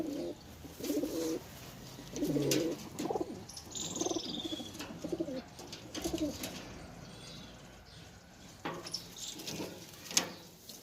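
Rajasthani desi high flyer pigeons coo in a loft, a series of soft throaty coos repeating in rhythmic bursts, close by, with occasional faint chirps and scuffling between calls.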